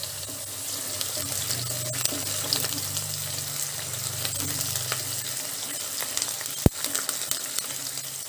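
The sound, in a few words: onions and curry leaves frying in a pan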